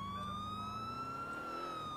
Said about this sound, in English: I also want to turn the damn sirens off